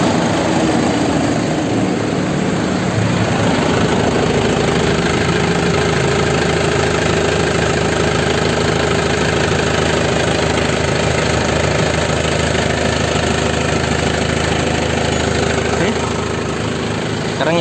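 A 2005 LS non-turbo manual car engine idles with a steady, even mechanical rumble that runs continuously, close and fairly loud with no revving.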